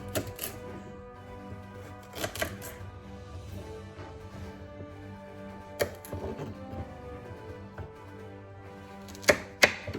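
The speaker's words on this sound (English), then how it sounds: "These potatoes here, these carrots, I'm just gonna cut in half." Knife cutting potatoes and carrots in half on a cutting board while preparing a crockpot corned beef brisket, heard as several sharp scattered chops with pauses between them over a faint background.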